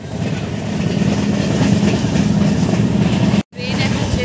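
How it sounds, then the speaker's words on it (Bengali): A crowded passenger train pulls out of a station with a steady loud rumble and clatter of carriages, the noise briefly cutting out for a moment near the end. "ট্রেন এখন ছেড়ে দিয়েছে, সবাই মিলে যাচ্ছে"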